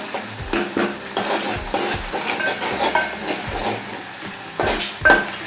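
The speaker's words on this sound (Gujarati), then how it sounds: "અહીંયા આપણે મસાલાને એકદમ વ્યવસ્થિત સોતરવાનો છે" Spice masala sizzles in hot oil while being sautéed and stirred in a pan for a desi chana bateta curry, with steady frying hiss and repeated scrapes and knocks of the spoon against the pan.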